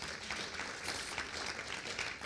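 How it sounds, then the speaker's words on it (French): Church congregation clapping for a couple during a special service celebrating love, a steady dense wash of many hands at moderate distance, fairly faint and continuous, with no talk over it. "Est-ce qu'on peut aussi les encourager, les applaudir?"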